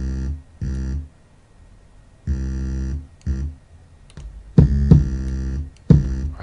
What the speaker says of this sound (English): Let's bring up that kick.